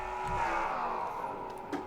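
Race car engines in a stock car racing video game at Nashville Superspeedway, a steady dense drone of many cars together, loud and continuous, with a commentator talking over it.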